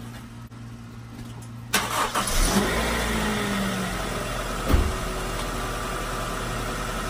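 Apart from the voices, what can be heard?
Honda CR-V engine starting and idling, 216,000 miles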